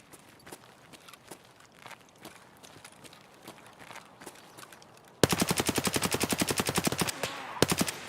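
An AKS-74U fires in Escape From Tarkov, a loud rapid burst of automatic gunfire lasting about two seconds followed by a short second burst, after quieter footsteps and movement.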